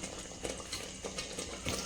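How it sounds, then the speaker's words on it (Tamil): A pot of pav bhaji curry with peas and potatoes simmers softly, with gentle bubbling and occasional small pops, quiet and close. "இது கொஞ்ச நேரம் கொதிக்கட்டும்."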